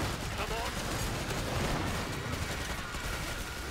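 Dense, continuous gunfire from a 9mm weapon in a co-op zombie shooter game, a steady loud barrage of rapid shots running through the whole moment with no pauses.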